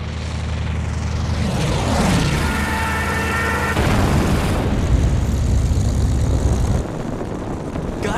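Propeller aircraft engines of attacking warplanes roar loudly in the Battlestations Midway video game, a dense droning surge that swells as planes pass close, with heavy booms thudding underneath.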